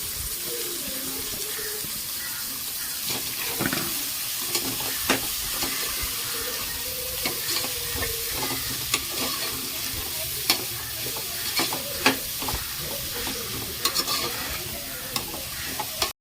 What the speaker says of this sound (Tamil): வதக்குவோம்.